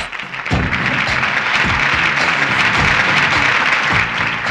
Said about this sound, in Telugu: క్లాప్!